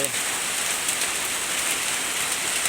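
Steady rain patters densely on a surface, an even hiss of drops with no pauses throughout.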